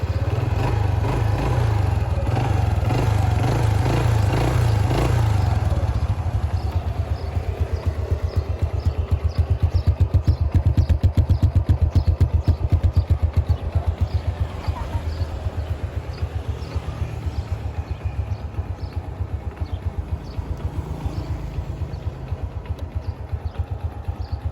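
A motorcycle engine idles and runs close by with a steady, loud, rapid low throb that holds for the whole stretch, its pulse shifting slightly midway, with no talking over it.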